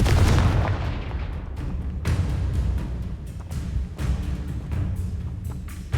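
The Confringo explosive spell goes off in the video game Hogwarts Legacy, a series of heavy booming blasts and sharp cracks, loud and close, with rumbling tails between impacts and no speech.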